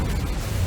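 A fire spell called Incendio is cast in the video game Hogwarts Legacy, a dense, rumbling burst with a low booming roar that swells near the end of a short, loud moment. No talking is heard.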